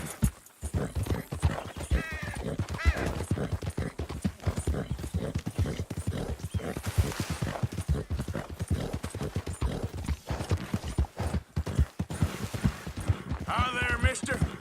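Fast galloping horse hooves in the western game Red Dead Redemption 2, a dense drumming clip-clop close up throughout with a snort or whinny, while voices speak over it.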